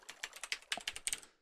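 Quick bursts of typing on a computer keyboard, about a dozen close, crisp key clicks in an uneven rhythm over a second and a half, with no voices.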